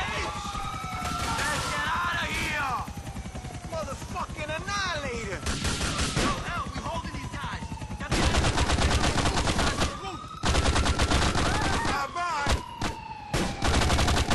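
Gunfire from an Annihilator attack helicopter in the video game GTA The Ballad of Gay Tony, rapid machine-gun bursts and loud explosive volleys with game effects, getting heavier in the second half, with shouting voices at times.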